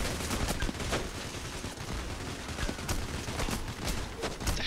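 Dense, continuous gunfire from a PayDay: The Heist robbery shootout, rapid overlapping shots crackling close and loud with no pause or talking.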